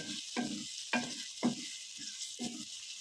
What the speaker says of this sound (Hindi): साथ हम चमचा भी चलाते जाएंगे, हिलाते जाएंगे